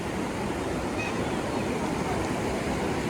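Floodwater fills a street, a continuous, fairly loud rushing wash with steady rumble and no clear breaks, heard without talking.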